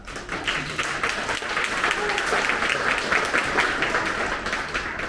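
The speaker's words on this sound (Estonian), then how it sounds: "Aplaus on muidugi väga teretulnud, sest et nad on väga tublid." An audience at a youth symphony orchestra concert in Viljandi applauds the woodwind section, a full, steady round of clapping that swells in quickly and continues evenly, with a faint voice beneath it.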